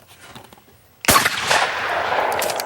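A shotgun blast at a skeet range rings out sharply after a second of quiet, followed by a long echoing rumble that fades slowly across the open field.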